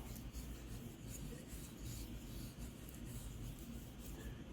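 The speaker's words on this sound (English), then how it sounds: "me wipe some of that excess off" A cloth rubs steadily over a wooden machete handle to wipe away excess finish, giving a close, continuous scrubbing texture with no pauses and no talking.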